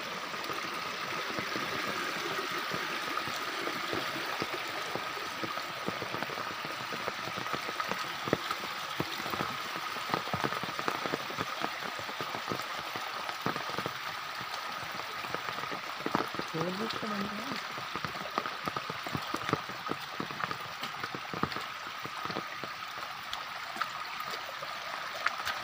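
Water streams steadily across a flooded road leading toward a tribal hamlet near Kurdus–Alibag, a continuous close rushing wash lasting throughout without pause.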